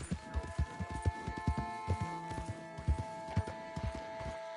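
Horse hooves clip-clop at a walking pace in Red Dead Redemption 2 on PS4, a steady, evenly spaced series of close hoof thuds over a faint tonal game soundscape, with no talking.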